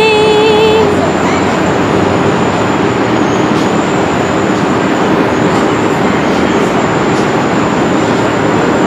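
Tram train arriving between Las Vegas hotels, a sustained loud rumble with a high electric whine and brief tonal chimes at the start, heard close on the platform.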